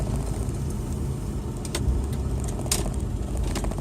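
A Ford Powerstroke 7.3 diesel truck rolls along with a steady engine and road rumble, a few light rattles and clicks over the continuous noise.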